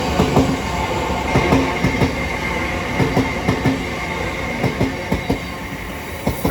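A Southeastern class 707 electric train passes at New Cross on the South Eastern Main Line, with a steady rolling rumble and a regular clickety-clack of wheels over rail joints, close and alone.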